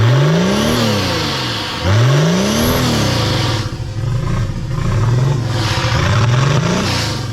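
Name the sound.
tractor diesel engine revving, turbo blow-off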